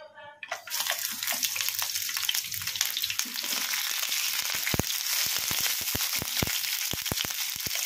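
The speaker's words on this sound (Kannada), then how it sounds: "ಹಸಿಮೆಣಸಿನಕಾಯಿ, ಇವನ್ನ ಎಣ್ಣೆಗೆ ಹಾಕಿ ಫ್ರೈ ಮಾಡ್ಕೊಂಬಿಡೋಣ" Green chillies fry in hot oil in a kadai over a medium flame, a steady dense crackle and hiss with sharp pops scattered through it. A voice is heard briefly at the very start.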